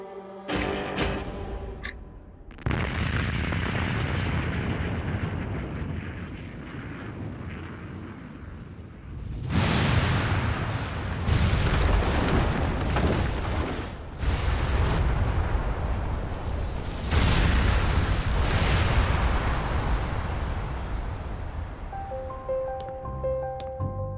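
An atomic bomb test explosion near Semipalatinsk: a deep, rumbling blast roars up and swells, followed by sustained thunderous rolling and crackling that lingers for many seconds.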